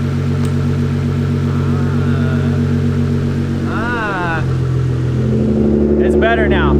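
A Nissan R35 GT-R engine idling steadily with a loud, constant low rumble, plus a couple of short squealing whines partway through.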